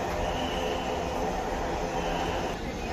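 A Dhaka metro rail train arriving at the station: a loud, steady rumble of wheels and rail noise fills the whole stretch without a break.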